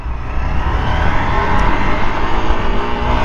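A Hero XPulse motorcycle engine revs under throttle, a loud, continuous close-up drone with a slight rising strain throughout.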